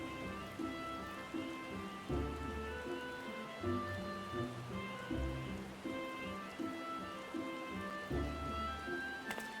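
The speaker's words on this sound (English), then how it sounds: "It's raining." Rain falling in a Final Fantasy VR game, a faint, steady patter against a parasol, with a soft looping music bed underneath.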